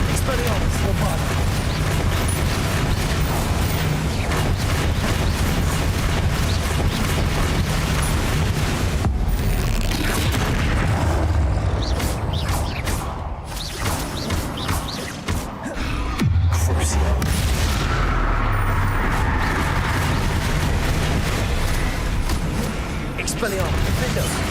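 The Bombarda blasting spell in Hogwarts Legacy explodes in heavy booms amid a dense, loud layer of combat effects and music, with a voice talking over the noise.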